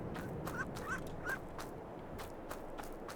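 Ducks in a farm barn in the video game Ocean Side Forest, a flock of mostly female birds with a male among them, give short quacking calls and scattered honks over a steady crowded background noise, with faint footstep-like clicks throughout.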